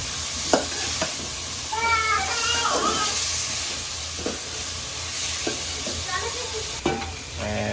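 Chicken liver and gizzard masala sizzles and crackles in a pan while being stirred, with intermittent scraping clicks over a steady frying hiss and faint voices in the background.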